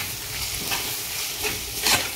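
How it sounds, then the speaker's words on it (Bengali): Pointed gourd pieces fried with fresh coriander are stirred in a pan, giving a steady soft sizzle with scraping strokes and a brief louder scrape near the end, with no talking. "করিয়েন্ডারে একটু মিলিয়ে নেব।"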